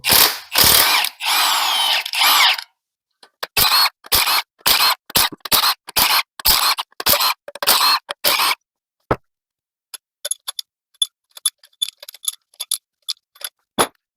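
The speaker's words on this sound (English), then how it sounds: "Now to remove the 15 millimeter head bolts." A ratchet wrench removing 15 mm head bolts from an L61 engine during teardown: loud rapid clicking bursts, then a series of separate ratcheting runs with pauses, ending in lighter, quicker clicks.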